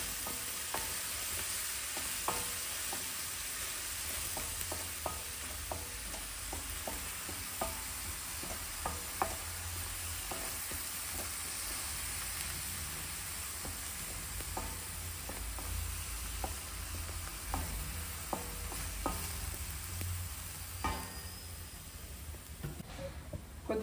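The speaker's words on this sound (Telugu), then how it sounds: "ఇట్లా ఆయిల్లో బాగా ఫ్రై చేయాలి" Chicken curry masala fried in oil in a pan, a steady sizzle with a low rumble, broken by regular spoon-stirring taps and scrapes throughout.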